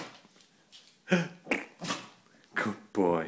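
A Cocker Spaniel dog gives a few short, sharp sneezes and snorts close up, spaced irregularly, with bits of breathing between bursts and a person speaking nearby.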